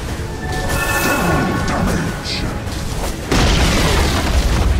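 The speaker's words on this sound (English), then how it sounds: "Radiant's middle tower has fallen" A Dota 2 tower collapses with a loud booming crash, a burst of crumbling impact noise followed by a heavier rumbling blast near the end, set against busy game sounds.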